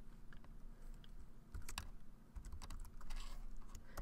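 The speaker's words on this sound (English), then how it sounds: "I can type in a new name for my" Someone types a database name on a computer keyboard, producing a close, quick patter of key clicks in uneven bursts over a low steady hum, without speech.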